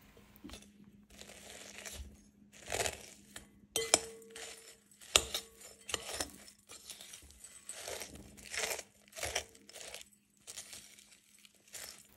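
A spoon or whisk stirs tiramisu cream with vanilla coffee powder in a bowl, giving irregular, close glassy clinks and scrapes in bursts with short pauses between strokes.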